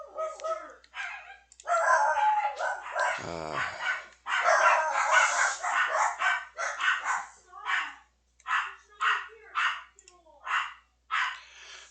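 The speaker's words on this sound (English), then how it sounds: "Dogs are going crazy over nothing again." Dogs in the Wurm Unlimited game, barking in repeated bursts that become a steady rhythmic run of barks near the end, with a short rooster-like call partway through.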